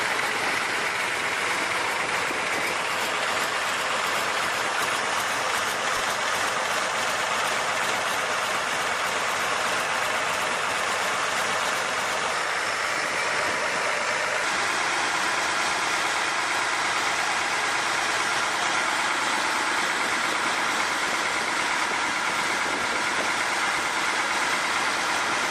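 A 38.8-liter liquid-cooled V12 Soviet tank engine with a 60-degree V-angle, dual overhead camshafts and direct fuel injection runs steadily at a near, loud idle, a dense continuous rumble with no voices.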